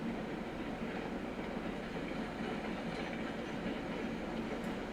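A train rolls slowly across a trestle in the video game Railroads Online, its wheels giving a steady rumbling clickety-clack with a faint squeal near the end, heard alone at moderate volume.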